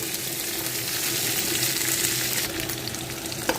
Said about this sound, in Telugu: వేగుతున్నాయి కదండి ఉల్లిపాయ ముక్కలు పచ్చిమిర్చి